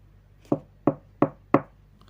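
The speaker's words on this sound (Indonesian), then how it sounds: "Kini ketukan pintu yang terdengar brutal." Four loud, heavy knocks on a door at a steady, even pace, each a close, solid thud with a short decay, and no talking.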